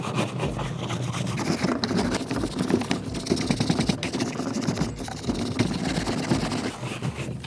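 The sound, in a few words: scrubbing wet dirty tools clean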